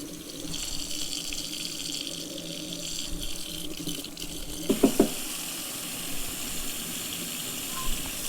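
Water, 400 grams at 85 degrees Fahrenheit, pours steadily into artisan wild-yeast bread dough, a continuous close splashing trickle with a few louder gurgles partway through.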